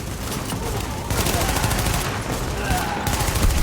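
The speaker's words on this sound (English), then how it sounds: "You can shoot them in their backpack, and they'll explode from the flame." Dense, continuous gunfire from shooting enemies in Tom Clancy's The Division video game, a steady rattle of rapid shots with a voice talking over the top.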